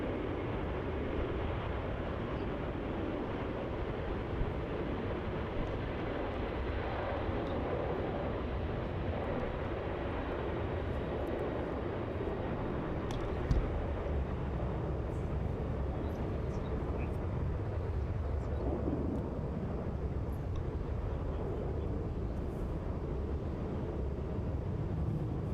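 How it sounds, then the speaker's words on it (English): A Qantas heavy jet, flight QF79 bound for Tokyo, rolls down runway 34 at Melbourne Airport on its take-off run, a steady broad roar that holds at an even, moderately distant level throughout. "This is going to be QF79 off to Tokyo. Now rolling down runway 34."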